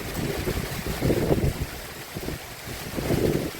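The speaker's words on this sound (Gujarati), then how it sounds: "એટલો જોરદાર પવન. પવન સાથે જો વરસાદ આવ્યો, માવઠાનો વરસાદ." Strong gusty wind during unseasonal rain in Jamnagar, Reliance Township, buffeting the microphone in a steady low roar that swells in surges, with no voices.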